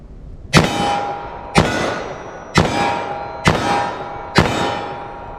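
Five .44 Magnum revolver shots fired at a target, each a sharp, loud crack with a ringing metallic tail, spaced about a second apart in an even rhythm, with no talk.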